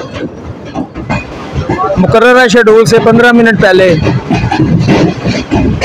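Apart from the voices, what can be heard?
Green Line passenger train entering the railway station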